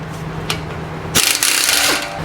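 On a 2019 Honda Pilot during an axle seal job, mechanical clicks and a brief ratcheting come first, then a Snap-on cordless impact wrench fires a loud, rattling hammering burst that fades out.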